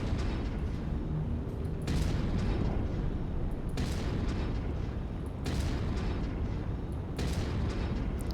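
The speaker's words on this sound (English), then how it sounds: "I think we'll fire a few shells off first" Artillery shells are fired in a video game at the upper stories of buildings. Several heavy booming blasts come at spaced intervals, each followed by a long rumbling decay, with no talking.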